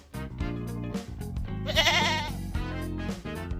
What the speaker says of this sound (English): It is goat.